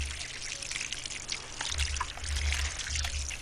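Water is poured in a gardening video game, a close trickling stream that comes in uneven gurgling bursts, growing fuller toward the end, with no talk.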